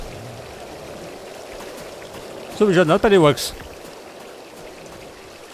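Water splashes steadily from a fountain-like water feature in the fantasy role-playing video game Satinavs Ketten (Das Schwarze Auge): a continuous soft wash that runs throughout, with a brief stretch of speech over it midway.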